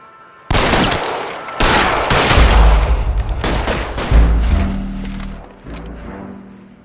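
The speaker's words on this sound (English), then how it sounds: "All units, shots fired, ops needs help." Gunfire in L.A. Noire breaks out in loud, dense volleys of rapid shots with heavy low booms and echoing cracks, several bursts close together before trailing off, no voices heard.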